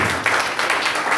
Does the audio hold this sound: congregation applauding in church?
yes